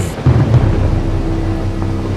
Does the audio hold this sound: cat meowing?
no